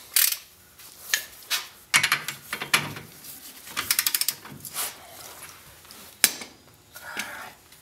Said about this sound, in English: this is supposed to be tightened down to 80 foot-pounds, and for that I've got a 28mm socket